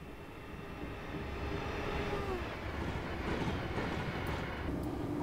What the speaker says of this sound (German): positionieren wir uns mal irgendwo an die Strecke und lassen mal den Zug an uns vorbeifahren